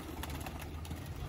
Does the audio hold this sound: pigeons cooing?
yes